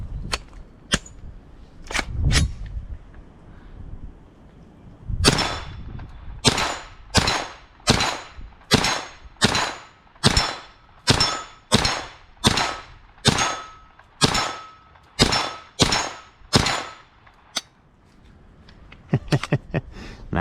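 Foxtrot Mike AR9 pistol-caliber carbine firing at steel targets outdoors: a few scattered shots, then a rapid, evenly spaced string of sharp reports with ringing metallic hits, loud and near, ending in a quick final flurry.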